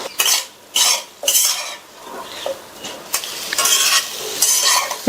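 Potatoes with chilli powder, turmeric and salt being stirred for a side dish in a pan, with repeated loud scraping bursts of a spoon against the metal and a light sizzle underneath, no talking.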